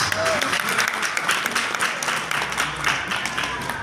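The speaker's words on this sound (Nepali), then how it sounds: "कृपया दिल खोलेर ताली बजाइदिनुहोस्।" An audience at a Nepali artists' association general assembly and awards ceremony claps as the program begins, a dense, steady wash of applause with a voice faintly beneath it.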